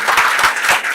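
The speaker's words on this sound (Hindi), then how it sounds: "बजाओ एक बार अपने पागलपन से जबरदस्त तालियां" Audience applause for a Hindi-speaking presenter at a Family Fun Club presentation, a short dense burst of crowd clapping filling the moment with no talk.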